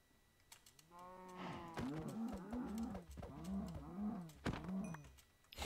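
Blocky video-game cows in a Minecraft-style world give a run of drawn-out lowing moos, several in a row with short gaps between them, fairly close, with no talk over them.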